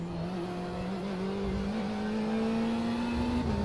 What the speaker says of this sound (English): You don't like the engine noise, Ed?